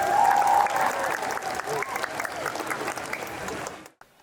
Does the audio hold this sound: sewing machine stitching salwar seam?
no